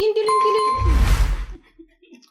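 A bright notification bell dings once with a ringing tone, followed by a soft swoosh and low thump as the sound fades out.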